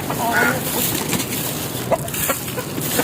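Several chickens cluck and chatter at close range while pecking at scattered grain, with short bird calls rising over a steady outdoor background hiss.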